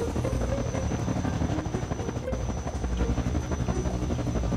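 Helicopters circling overhead during a bank robbery level of the video game Roblox: a continuous, loud, throbbing rotor drone with a fluttering pulse that holds steady throughout, without any talking.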